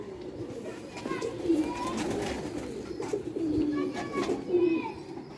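Pigeons coo repeatedly in soft, low rolling calls, several birds close by, with faint background chatter and other bird sounds.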